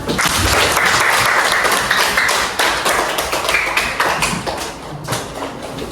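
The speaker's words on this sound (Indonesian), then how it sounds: "Tepuk tangan" Loud, dense applause from a school classroom audience, steady clapping for about five seconds that thins slightly toward the end, close and with no talk over it.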